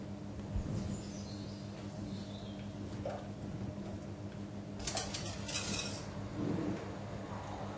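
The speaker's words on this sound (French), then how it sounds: "Nous allons donc incorporer notre chocolat fondu à notre préparation d'œufs et de sucre." A spoon stirs melted chocolate into an egg and sugar mixture for a chocolate fondant, soft scraping and light clinks against a bowl, quiet and close, with a few brighter clatters.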